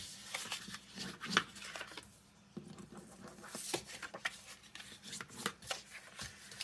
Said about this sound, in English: here we're going to fold and burnish with your bone folder.